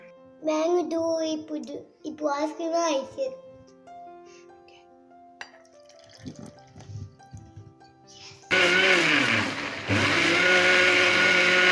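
A kitchen blender grinds fruit into a smooth puree, bursting in loudly after several seconds of a voice speaking with quiet clinks, then whirring steadily at full power to the end.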